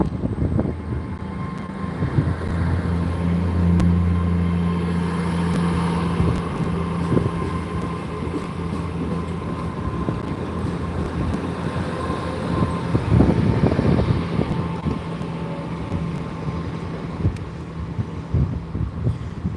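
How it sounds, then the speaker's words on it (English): A train's low engine rumble and mechanical hum build steadily as it releases its brakes and pulls away in Gloucester, with rattling clanks and a brief loud burst midway through. "Brakes release, and off it goes."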